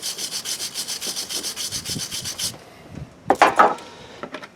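A wire brush scrubs corrosion off a car battery terminal in quick rhythmic back-and-forth strokes, steady and close for about two seconds, then a pause and a few harsher, louder scrapes.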